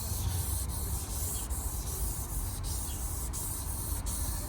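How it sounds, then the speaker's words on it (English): Steady wet rubbing and scraping of sandpaper on a faded carbon fiber hood of a Honda NSX, a continuous hiss with faint rhythmic strokes, close up and no talking. "I guess we're just gonna continue polishing it, sanding it"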